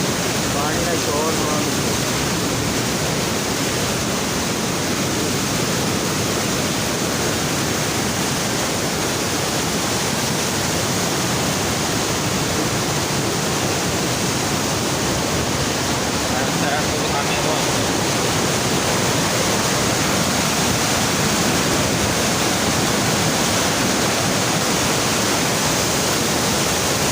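Loud, steady rush of canal water at the Head Munda Branch, a dense continuous roar with no breaks, close and unvarying throughout.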